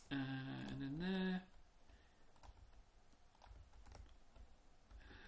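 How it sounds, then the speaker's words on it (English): A cheap, loud computer mouse clicks in quick irregular bursts at close range, sharp and dry, following a brief tonal game sound at the start. "Do you like how loud my clicky mouse is? Cheap mouses are loud clicky mouses."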